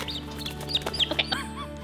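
Young chickens on a homestead give soft, close clucks, a quick run of short chirpy bursts over a couple of seconds.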